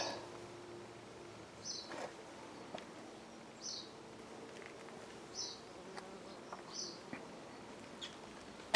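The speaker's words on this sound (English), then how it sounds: "I hear the bees wherever I go" Faint buzzing of bees drifting past outdoors in a garden near a Japanese hypericum, soft intermittent hums over quiet ambient noise with occasional distant chirps.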